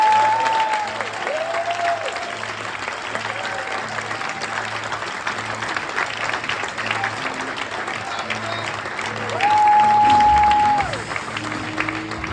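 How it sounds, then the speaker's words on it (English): A gala audience breaks into a hearty, sustained round of applause that carries on for over twelve seconds, swelling briefly near the end, with faint voices and tones underneath. "Please join me in offering them a hearty round of applause."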